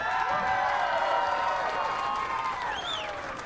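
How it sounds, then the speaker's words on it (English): Loud, continuous applause and cheering from an arena crowd at a girls' state basketball finals, greeting the two finalists, with some voices mixed in and tapering off slightly near the end. "how about a nice round of applause for our 2 finalists?"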